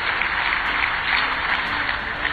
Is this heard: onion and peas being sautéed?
no